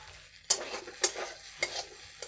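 Soaked flattened rice (chira) is stirred in a pan for a breakfast dish: a soft background sizzle broken by four distinct scraping stir strokes at roughly half-second intervals, close, with no talk.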